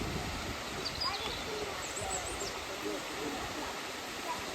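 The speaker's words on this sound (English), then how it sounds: "There's the waterfall." Constant roar of the White Lady Waterfall, about 90 feet high, in Lydford Gorge fills the scene, steady and even, with faint bird calls and distant voices mixed in.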